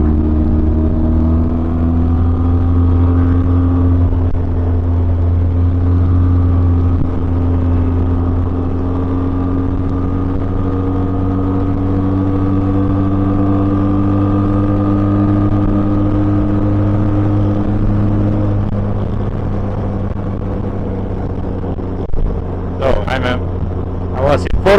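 A Voge 300 Rally motorcycle engine drones at full throttle in fourth gear climbing uphill at about 80 km/h, a steady close engine hum with slowly shifting pitch, a voice talking over it throughout.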